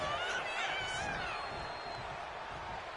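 Arena crowd noise from WWE 2K25 during an NXT wrestling match set in Washington, D.C., a steady wash of cheering and whooping with a commentator talking over it throughout.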